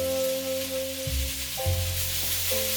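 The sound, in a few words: garlic sizzling in a pan with onions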